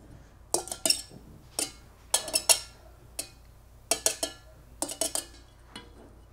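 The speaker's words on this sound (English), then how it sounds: "And whisk them together." A fork beats a dozen eggs in a mixing bowl, giving quiet, close bursts of quick metallic clinks against the bowl in irregular clusters separated by short pauses.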